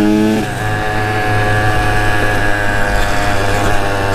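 A rebuilt Kawasaki KX 85 two-stroke dirt bike engine revs loudly and close, holding a steady high buzzing drone with slight pitch rises throughout.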